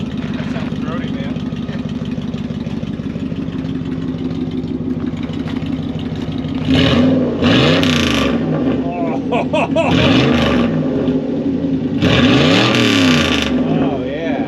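A 32-valve car engine with its mufflers cut off idles with a steady throaty rumble, then revs loudly in several repeated bursts. The engine is close, and a person speaks briefly over it.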